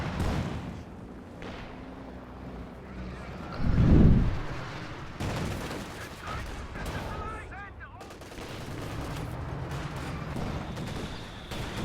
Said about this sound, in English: I hear Katyusha firing